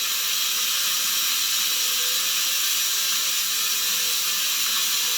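Frog legs frying in hot oil in a pan, a steady, dense sizzling hiss that holds evenly and fairly loud throughout with no voices.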